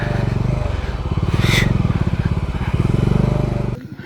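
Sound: motorcycle riding on a rough offroad track

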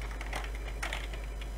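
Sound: typing a command on a computer keyboard

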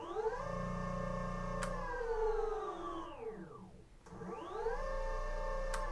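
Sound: electric skateboard wheels rolling

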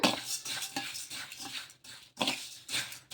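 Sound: stirring semolina (rava) and vermicelli (semiya) together in a bowl

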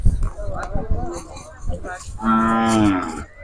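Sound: oxen at cattle fair

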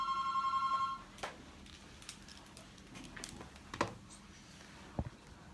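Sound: telephone ringing during live radio show

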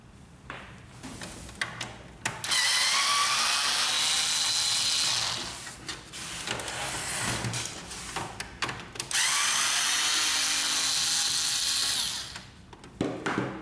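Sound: removing screws from Samsung ML3310 laser printer

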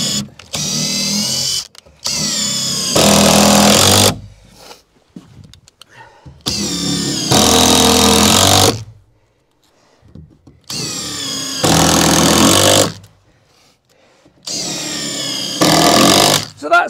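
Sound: screwing timber wall frame

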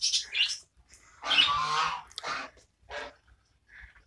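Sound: parrots squawking

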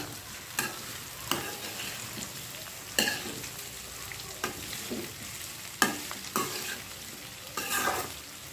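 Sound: stirring bitter gourd pieces frying in a pan

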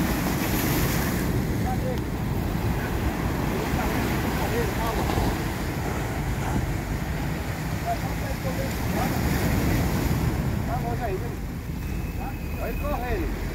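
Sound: ocean waves and surf at the beach

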